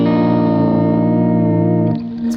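Electric guitar run through a Kemper amp profile with a compressor, a single chord ringing out with long, smooth sustain and a distorted, slightly effected tone, then slowly decaying near the end.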